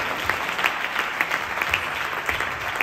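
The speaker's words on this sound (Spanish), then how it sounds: "Dale fuerte ese aplauso al Señor," Congregation applauding in a church service, a dense, steady wash of many hands clapping throughout with no voices above it.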